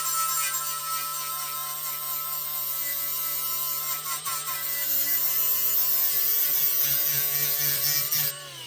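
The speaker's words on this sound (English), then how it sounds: "So metal finishing is basically just polishing your weld." A weld being polished smooth on a 1969 convertible car body, a steady loud grinding whine with sustained tonal harmonics that rises slightly midway and continues without pause, heard alone.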